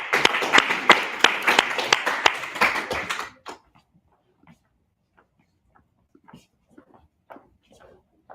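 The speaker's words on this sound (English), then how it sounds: "Give a round of applause." Audience applause for a team invited on stage at a university course event, a few seconds of lively clapping that stops abruptly, followed by quiet scattered taps and rustling.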